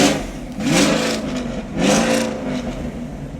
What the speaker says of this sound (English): I'm trying to make some noise so bro can hear the car.